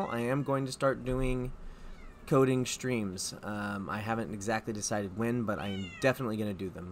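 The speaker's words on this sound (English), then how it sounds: "Sorry about the cat." A house cat meows repeatedly behind someone talking on a game-development coding stream, several drawn-out meows scattered under and between his speech, fairly close.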